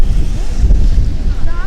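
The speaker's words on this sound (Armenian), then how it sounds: "Այս քամի սկսեց։" Gusty wind buffets the microphone outdoors on a city street in light rain, making a continuous low, rumbling roar that rises and falls throughout.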